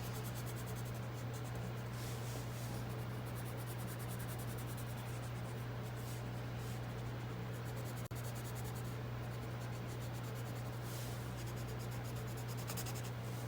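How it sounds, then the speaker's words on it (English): Steady dry scratching of a watercolor pencil used dry on paper, continuous and close, with a constant low hum underneath and no voices. "these are watercolor pencils, but using them dry"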